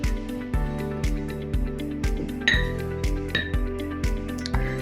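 A metal spoon stirs turmeric in a bowl, a steady run of bright clinks and taps striking at regular intervals, close and fairly loud, with no talking.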